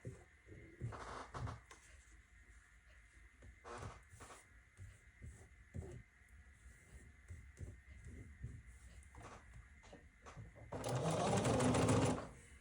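A home sewing machine stitches quilt fabric, a steady mechanical whir that swells loud and dense near the end, with scattered clicks and handling noises earlier.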